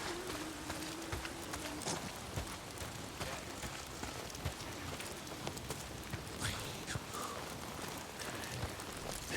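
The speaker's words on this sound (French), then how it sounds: "manquait plus que la pluie" Rain falling in the video game Days Gone, a steady dense patter of drops on surfaces filling the scene continuously, with a few faint tonal game sounds mixed in and no speech.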